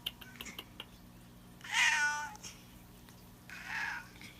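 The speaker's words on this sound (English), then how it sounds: "He likes to meow at literally everything." A cat lets out two loud, drawn-out meows close by, the first longer and stronger, with quiet room sounds between them.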